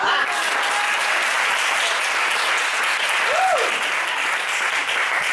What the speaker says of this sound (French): Acclamez le Seigneur.